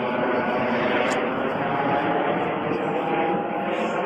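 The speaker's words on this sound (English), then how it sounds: "wait for the helicopters to go by" Helicopters pass overhead as a loud, steady broadband drone that fills the whole stretch without a break, with a faint voice present in the mix.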